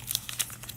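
Plastic freshness packs from a tabletop card game crinkle in quick, light bursts as they are handled close by, a few soft crackles spread across under a second.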